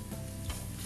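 Onions and fresh chilies with crushed cardamom and cloves frying in a hot pan for a black pepper chicken curry, a brief, steady close sizzle with a soft stirring texture.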